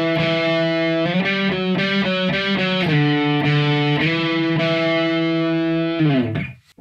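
A distorted electric guitar plays a riff on the fifth string, a sustained, buzzy run of low notes that changes pitch every half second or so, loud and close, ending as the last note is muted.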